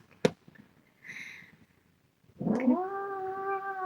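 A young cat lets out warning yells: first a sharp short cry, then a soft brief mewl, then a loud, drawn-out caterwauling howl close by, with no talking.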